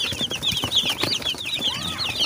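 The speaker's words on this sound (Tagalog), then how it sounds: "Yan po yung mga sisiw." Young chicks around 45 days old chirp in a rapid, overlapping cluster of high, thin peeps, close and continuous, with faint low rustling and shuffling underneath.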